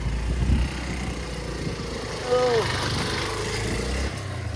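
A motorcycle engine rumbles low and steady as the bike rolls downhill on a rough, foggy road near Nongjrong in Meghalaya, with a brief rise in engine note midway.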